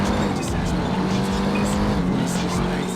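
A car engine in the video game Driver: Parallel Lines drones loudly and steadily with a low growl and faint tire noise, music faintly underneath and a person talking over it.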